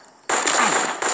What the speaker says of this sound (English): With that grenade, I got a double kill right there